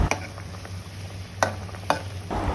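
Rohu fish pieces cook in a pan with onion paste, giving a steady low sizzle broken by a few sharp stirring clicks and scrapes, close and with no talking.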